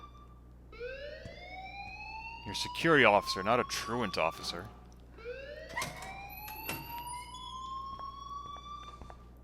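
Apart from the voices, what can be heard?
alarm ringing in Life Is Strange video game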